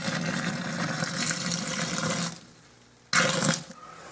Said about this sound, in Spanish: le echaremos pues lo que viene siendo el líquido, que serían 500 mililitros o medio litro de agua